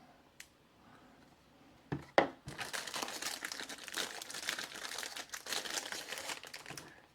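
Plastic wrapping crinkling and rustling while a BeaverCraft BSH5 Shadow bushcraft knife is unboxed, with a couple of sharp snaps and then a few seconds of steady, close crackling.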